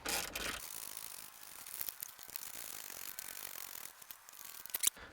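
A ratchet clicks steadily as two nuts are run down onto threaded studs on a Mitsubishi Triton or Pajero Sport during a dual battery install, close-up and continuous with short pauses and no talking.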